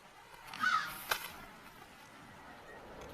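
A crow caws once or twice at moderate distance, a brief harsh call standing out over quiet outdoor ambience with no talking.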